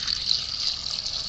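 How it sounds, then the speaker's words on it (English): Fresh water is poured over soaked beans, making a continuous hissing, trickling pour at close range for just over a second, with no voices. "what I'm going to do now is cover them with fresh water."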